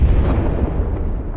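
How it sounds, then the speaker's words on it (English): An explosion in the VR shooter game Zero Caliber rumbles as a loud, sustained low boom that fills the whole moment without any voices. "Explosion in the background."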